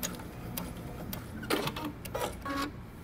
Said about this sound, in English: I'm going to sew and backstitch on my dot